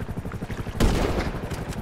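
Gunfire in GTA V, a dense burst of shots that starts abruptly partway through and continues over a rapid rhythmic background, with no talking.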